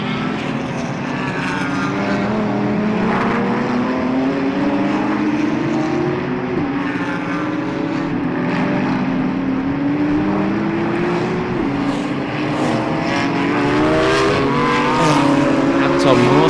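Racing cars including a McLaren and a BMW, among them the SMC Motorsport entry, scream past on track with engines rising and shifting through gears, one after another, loud and close under steady commentary.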